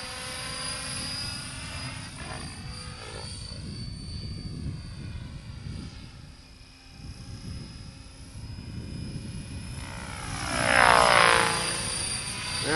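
Helicopter performing an aerobatic roll, pulling full negative collective while upside down: a steady rotor and engine drone throughout, swelling louder and brighter near the end as the aircraft passes close, with no talk.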